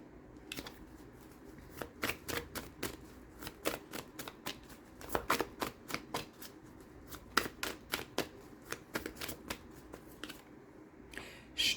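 Tarot cards being shuffled in a quiet room, a long run of crisp, rapid riffling snaps repeating in uneven bursts, close and clear with no talking.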